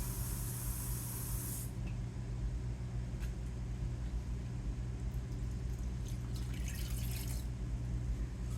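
Slightly warm water, about one and a third cups, pours steadily into a bowl for sourdough bread dough, a soft running hiss over a constant low kitchen hum, with a brighter splashing burst toward the end.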